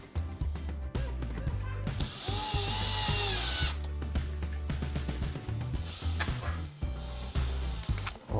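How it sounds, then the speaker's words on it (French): A cordless drill driver runs on the plastic screws of a Hobbytech BXR-S1 RC car while its central slipper clutch is being changed. The whirring bursts are loud and close, rising and falling almost without a break, with short pauses between the bursts. "on accoste avec la perceuse dévisseuse"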